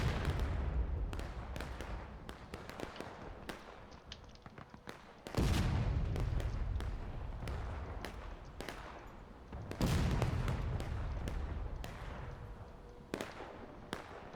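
Artillery and musket fire across a public War of Rights match on the Wagon Road map: a steady crackle of distant rifle shots, broken by two heavy cannon booms whose rumble rolls on for several seconds.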